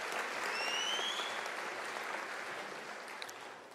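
An audience at a university autumn graduation ceremony breaks into a round of applause, a dense wash of clapping from a large crowd that swells at first and then gradually tapers off, heard at a moderate distance.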